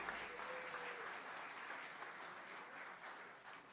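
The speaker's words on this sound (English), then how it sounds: "let's give them all a really big round of applause" Audience applause fills a live tribute concert hall, a steady dense wash of clapping that holds at even strength throughout, with no voices over it.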